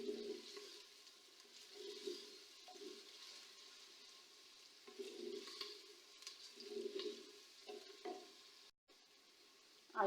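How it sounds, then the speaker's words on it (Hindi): Ginger garlic paste fries in a pan for a chicken and potato curry, a soft, steady sizzle broken by recurring scrapes and stirs of a spoon, with one brief dropout near the end. "अदरक लहसुन का पेस्ट, अब इसको थोड़ी देर के लिए बनाई इसकी करूँगी मैं।"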